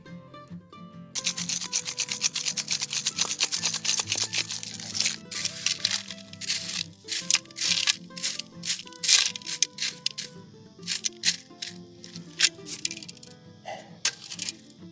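Scraping, crunching rock and grit as granite is dug through in a search for smoky quartz crystals, a dense continuous rasp with sharp cracks and clatters throughout, with a steady tonal hum underneath.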